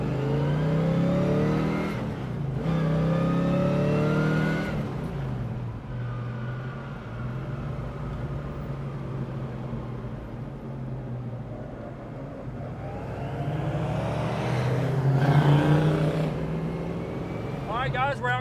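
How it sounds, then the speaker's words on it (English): A 1970 Chevrolet Chevelle SS LS6 muscle car out cruising, its engine a steady low rumble that swells with revving and acceleration, heard from inside the car under continuous talking. "we're out cruising in the 70 Chevelle"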